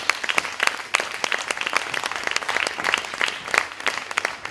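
An audience at an evening event on stage gives applause, with distinct individual claps over a lively, fairly close crowd, sustained and uneven throughout.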